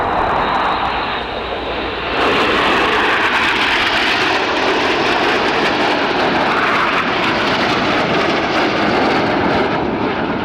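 Red Arrows jets flying the 5-4 cross at an air show, a loud sustained roar of jet engines that swells as the aircraft pass, with no commentary heard.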